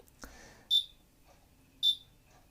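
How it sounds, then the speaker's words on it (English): A Process Master II timer counts down the final 10 seconds of a step with two short, high, clean electronic beeps about a second apart, quiet and close, with a faint voice stirring just before the first. "for the last 10 seconds of any step, it beeps to give you an indicator"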